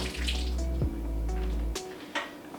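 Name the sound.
rinsing peeled boiled egg under running tap water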